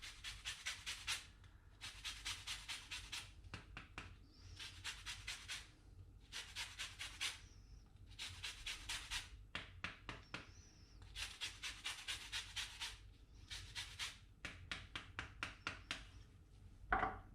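A lemon is grated for zest over a rice salad, quick rhythmic scraping strokes in short repeated bursts with brief pauses between, close and fairly faint, with no talking.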